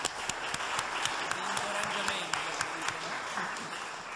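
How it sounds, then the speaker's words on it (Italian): An audience at a book presentation gives warm applause, a dense, fairly distant patter of many hands clapping steadily for a few seconds. "un caloroso applauso da parte di tutti"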